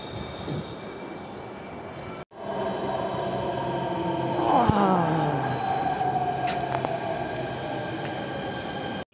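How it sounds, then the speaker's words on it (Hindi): A Delhi metro train pulls into Sector 18 station on a platform. A steady roar and whine rise, with a falling brake tone and squeal as it slows and stops. "फाइनली मेट्रो आ गई है"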